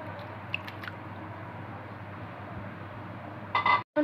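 Fried pointed gourd pieces dropped into a pot of vegetable biryani with lemon juice, a soft moist squish and a few faint wet clicks, then a louder shuffle near the end, alone with no talk.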